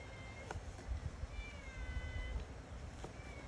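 A cat meows several times at close range in a home setting, its short cries rising over a low background rumble, with no voices.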